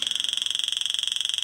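Rapid, even electronic clicking from a 555 timer circuit at a steady rate of roughly nineteen per second, close and continuous, with no other sounds.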